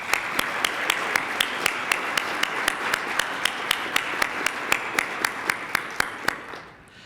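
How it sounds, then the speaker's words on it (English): A science conference audience applauds the organizers, a steady wash of clapping cut by sharp, evenly spaced claps, before tapering off at the end. "I want to pause and just give a round of applause"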